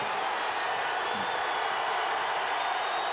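A basketball arena crowd at a college game between Iowa State and Iowa at Hilton Coliseum, giving off a dense, continuous roar of cheering that holds steady throughout.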